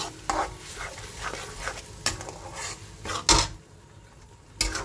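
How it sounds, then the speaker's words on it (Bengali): A spice paste of ground cumin, coriander, turmeric and sour yogurt is stirred and fried in a pan, with a steady sizzle broken by loud spoon scrapes and clatters against the pan. "মিক্স করে সুন্দর করে আবার কষিয়ে নেব"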